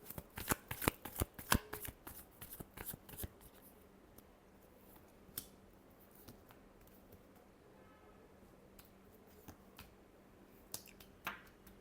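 Tarot cards shuffled by hand, close and soft, with a cluster of quick riffling flicks at the start and then scattered lighter card snaps and rustles against a quiet background hum.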